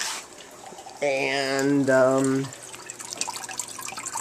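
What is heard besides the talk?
water trickling from homemade turtle tank filter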